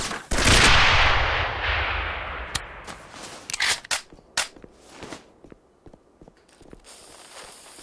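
Gunfire from the Xbox 360 shooter game Breach (2011) comes as a loud burst with a long decaying blast, then scattered sharp shots and clatter fading afterward.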